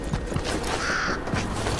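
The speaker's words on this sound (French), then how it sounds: "Oh, il y a un corbeau." A crow caws in a video game arena match, a single drawn-out call heard close over a dense, noisy game background.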